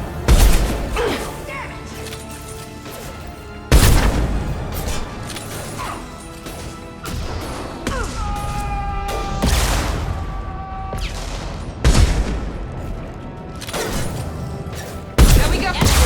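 Combat gunfire from weapons in the video game Mass Effect 2: sharp, loud blasts and impacts recurring every few seconds, with bursts of rapid shots over a steady, busy game soundscape.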